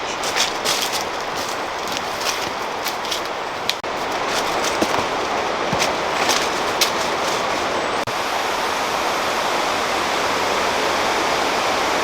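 The Saluopa waterfall rushes in a broad, constant roar of falling water, loud and close, with a few sharp clicks and knocks in the first part and no speech.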